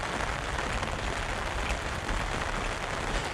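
Steady rain falls during an outdoor walk, a dense, even hiss of drops on surfaces that continues unbroken and fairly close, with no voices.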